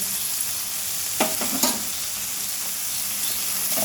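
Ghee dropped into a pan of ridge gourd cooking with coconut, a constant close sizzle with a couple of brief louder crackles and stirring scrapes near the middle, no voices.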